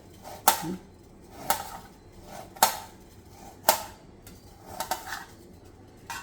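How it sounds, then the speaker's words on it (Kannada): A knife chops raw green tomato on a board, making sharp, isolated cuts about once a second, clear and close in a quiet room. "ತುಂಬ ಸಣ್ಣದಾಗಿ ಕಟ್ ಮಾಡ್ಕೊಳ್ಳೋಣ"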